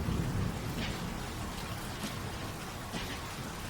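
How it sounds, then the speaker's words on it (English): Steady drizzle ambience in the video game Vaudeville, a soft continuous hiss of light rain on city cobblestones with faint scattered patters and no voices. "Even the drizzle that clung to the city's grimy cobblestones felt a shade darker than your everyday downpour."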